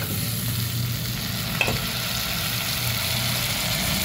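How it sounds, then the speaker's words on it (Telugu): Bones frying in hot oil with turmeric and salt, giving a steady, loud sizzle and crackle throughout, with a brief clatter of stirring near the middle and no voices. "ఇగోనండి బొక్కలని వేసి కొంచెం పసుపు ఉప్పు వేసినానండి"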